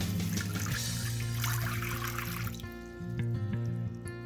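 Water pours steadily into a crock pot for a Spanish chicken stew, a continuous close splashing trickle that thins out near the end.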